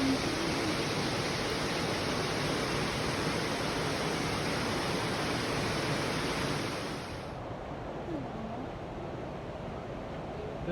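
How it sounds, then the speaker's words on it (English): Waterfall flowing below a bat cave at Eye of the Needle, Indian Creek, heard as a constant dense roar that drops to a softer steady rush partway through. "You can see the waterfall from the bat cave flowing down below me."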